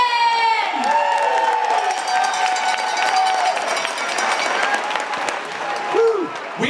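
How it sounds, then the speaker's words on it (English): An audience at a dance competition applauds and cheers loudly and continuously, with whoops and shouts rising over the clapping throughout. "let's give one more round of applause for Will and Caitlin."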